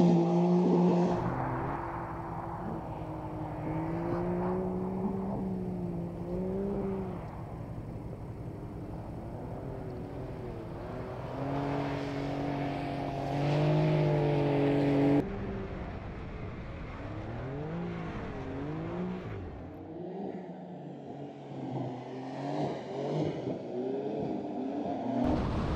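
A Porsche 911 Dakar driven off-road, its engine note rising and falling through gear changes and revs over about twenty-six seconds, fairly loud and continuous with rumbling tyre and road noise underneath.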